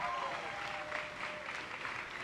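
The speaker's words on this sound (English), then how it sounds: "I think that's worthy of applause." Brief, steady applause rises from a crowd at a US Open tennis mixed doubles event, with a faint voice mixed in at the start.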